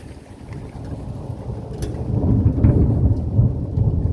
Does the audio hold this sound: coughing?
no